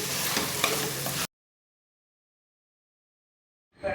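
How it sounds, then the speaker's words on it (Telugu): Mutton pieces are stirred into a spicy curry masala in a hot pan, a scraping, sizzling fry heard close for about a second, then a gap of silence before the sizzle returns faintly at the end. "మటన్ వేసుకొని మొత్తం బాగా మిక్స్ చేసుకోవాలి"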